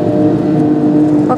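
A car in a VR driving simulator at a museum accelerates with a steady, fairly loud engine drone and whir that holds through the short clip.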